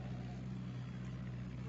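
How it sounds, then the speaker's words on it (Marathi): A tractor loaded with sugarcane drives toward a jaggery mill, its engine giving a steady, continuous low drone close by with no pauses and no voices. "हा ट्रॅक्टर चाललाय भरून"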